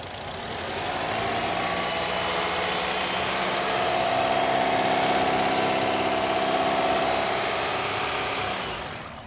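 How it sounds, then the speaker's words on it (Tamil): A 2011-model petrol car's engine runs in a steady, loud rev, holding a sustained hum with a faint whine on top for several seconds before easing off, with no talking over it. "வண்டியை ரேஸ் பண்ணி கொடுத்து வண்டியோட இன்ஜின் எப்படி இருக்குன்னு"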